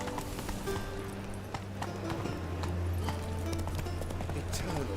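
Roach the horse's hooves clip-clop in a steady walking rhythm in The Witcher 3, close and clear under a low ambient hum, with a voice speaking over the hoofbeats.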